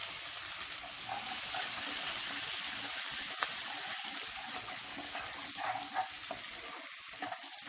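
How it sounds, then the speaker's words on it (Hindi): Finely chopped medium onion frying in a pan for dal khichdi, a steady close sizzle with light crackling and occasional stirring sounds, no talking. "बस प्याज थोड़ी सी ट्रांसपेरेंट होने तक ही फ्राई करें, ज्यादा नहीं"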